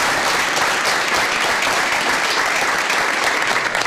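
A crowd in a locker room bursts into sustained applause, a dense, loud wash of many hands clapping at once with no pauses.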